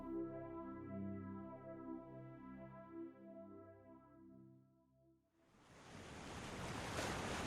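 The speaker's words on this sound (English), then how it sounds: "Imagine looking out over the endless waves of the ocean, watching the water move" Ocean waves rush in as a broad, loud surf wash that rises after a sustained musical drone fades out, with no voices.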